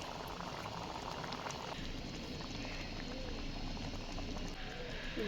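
Close, steady bubbling of a thick curry simmering in a pot, a continuous soft gurgle and pop with no voices.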